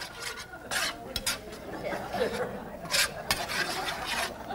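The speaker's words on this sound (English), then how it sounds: "Now you got to keep stirring that because you want that to thicken." Shrimp sauce being stirred in a pan for shrimp Napolitano with linguine, a steady rasping scrape with a few sharper knocks against the pan, close and moderately loud, with faint background chatter.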